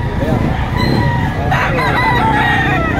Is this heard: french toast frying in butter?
no